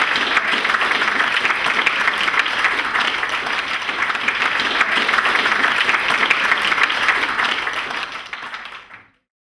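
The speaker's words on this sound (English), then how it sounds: "So a big round of applause for Dr." Sustained audience applause for speaker Dr. Steve Simpson fills the room, a dense, steady wash of many hands clapping for several seconds before fading out at the end.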